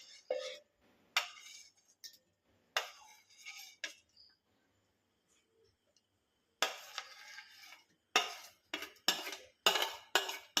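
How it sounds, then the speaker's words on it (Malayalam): Cut dragon fruit pieces dropped one at a time with a spoon into a container for a milkshake, giving close, bright clinks and taps in uneven bursts with a quiet gap in the middle. "ഡ്രാഗൺ ഫ്രൂട്ട് കട്ട് ചെയ്ത് വെച്ച് ഓരോന്നായിട്ട് എടുത്ത് ഇതിനകത്തേക്ക് ഇട്ട് കൊടുക്കാം"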